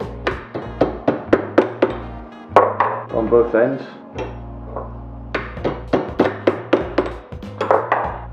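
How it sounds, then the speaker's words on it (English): A hammer taps a metal engagement ring clamped in a vise, with bursts of sharp, ringing strikes in quick succession and a pause where someone speaks in between. "tap it with a hammer"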